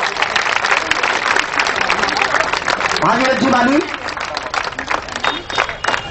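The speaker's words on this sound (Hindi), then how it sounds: "अरे इसमें तो ताली बजाओ" An audience at an inauguration ceremony applauds loudly and continuously, with a voice calling out over the clapping before it thins out toward the end.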